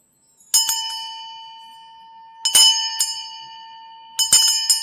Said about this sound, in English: nice bell metal